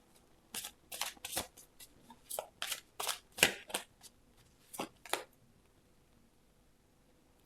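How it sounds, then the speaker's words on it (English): Tarot cards are shuffled and pulled in a series of crisp riffling snaps and slides, close and clear. Several quick bursts come with pauses between them and then stop, with no talking. "let me see one more card I want to pull out for you"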